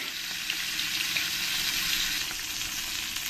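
Foloi fish fry gently in hot oil in a pan for a mustard-paste curry, giving a dense, steady hiss and crackle that runs unbroken without any voices.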